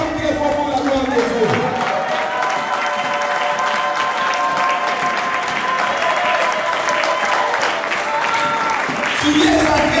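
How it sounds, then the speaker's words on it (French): A church congregation claps loudly and continuously, a dense sustained wave of applause filling the hall with voices and cheers mixed in throughout. "Acclame très fort pour la gloire de Dieu"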